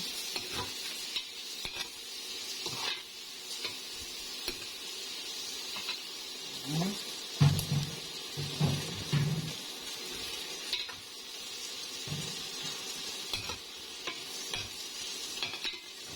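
Sotanghon glass noodles being stirred in a pan, with soft scraping and clinks of a utensil against the metal over a faint steady sizzle, louder in short bursts midway, no talking.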